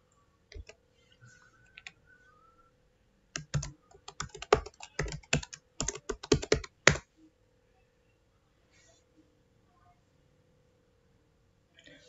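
Close, crisp keystrokes on a computer keyboard while typing at a VMware ESXi 6.7 DCUI console: a few isolated clicks, then a dense rapid burst of taps lasting several seconds, then quiet.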